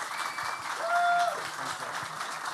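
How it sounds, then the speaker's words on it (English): An audience at a game awards ceremony applauds in a steady, moderately loud roar of clapping, with a faint voice and a few tonal sounds over it. "One more round of applause, please"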